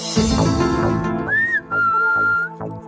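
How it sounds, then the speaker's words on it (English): Someone whistles a short tune, bright sustained notes sliding up and holding, over steady background music with a low beat. "What if it was your job to whistle this song?"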